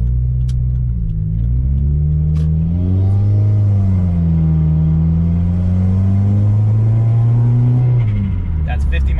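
A 2016 Subaru WRX with a Remark axle-back exhaust accelerates from inside the cabin, its loud, deep engine drone rising and shifting pitch through the gears, then easing off.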